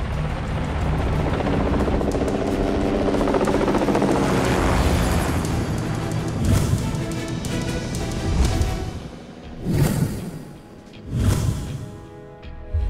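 A military aircraft, apparently a helicopter, comes in to land at a base, its loud, steady rotor roar filling the air before easing off into a few heavy, booming thumps near the end.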